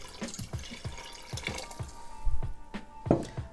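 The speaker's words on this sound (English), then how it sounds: "Then we'll go in with about half a cup of Chardonnay." Half a cup of Chardonnay poured into a pot of salted water with lemon: soft liquid splashing and dripping, close and fairly quiet, with a few heavier glugs toward the end.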